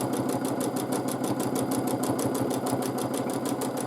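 Sewing machine stitching quilted feather designs with a middle stitch through plume shapes, a fast, even, mechanical whirring chatter of the needle running steadily and close, with no voices.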